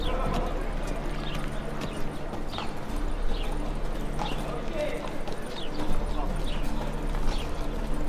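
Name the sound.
horse galloping hooves, from video game The Witcher 3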